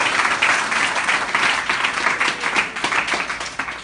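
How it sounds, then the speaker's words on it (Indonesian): Close, lively clapping from a group during an Arabic grammar lesson; the applause stays dense and loud for its whole length, with no talk over it. "Tepuk tangan sikit"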